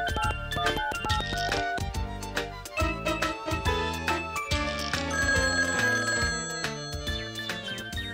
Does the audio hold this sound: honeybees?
no